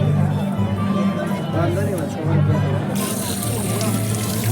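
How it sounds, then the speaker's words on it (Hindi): A crowded street in Shimla on Christmas Eve, with steady bustling chatter and murmur from many people and a low continuous hum, while someone talks over it close by. "क्यों आज यहाँ पे इतनी भीड़ है क्योंकि कल क्रिसमस है"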